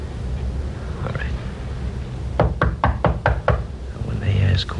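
Knocking on a door comes as a run of about six firm, evenly spaced raps, close and loud, set against a busy background with voices around it.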